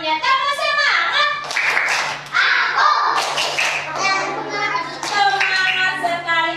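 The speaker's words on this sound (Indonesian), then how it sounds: "Tepuk semangat." A group of young children at a kindergarten class performs a rhythmic spirit clap, bursts of patterned clapping mixed with their chanting voices, close and lively with short pauses between phrases.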